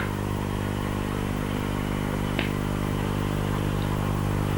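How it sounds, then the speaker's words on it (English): A tractor engine runs steadily at close range, a constant low drone with a brief clatter midway and no talk over it. "What's that? Tractor."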